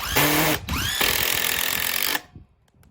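Cordless impact driver, Ryobi or DeWalt, driving a screw into wood in a strength test: a loud, close, sustained whirring hammer rattle with a short break, then a second run that stops abruptly, no talking.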